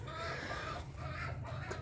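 Five-year-old aseel rooster kept among pet hens and pigeons, giving short clucking calls close by over a low steady background hum.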